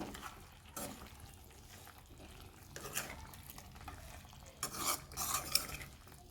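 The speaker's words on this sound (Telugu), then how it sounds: "అలాగే కరివేపాకు కూడా వేసుకోవాలి కలుపుకోండి ఇలాగా" Green chillies and curry leaves are stirred in a pan for chicken fry, quiet scraping with a few louder clinks and sweeps of the utensil.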